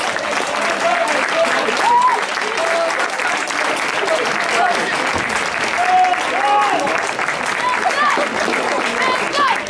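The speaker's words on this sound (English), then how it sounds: "I'm sure a round of applause for both teams will go down well." A crowd applauds both teams after a hard-fought local football cup final, steady clapping filling the whole stretch with some voices and cheers mixed in beneath it.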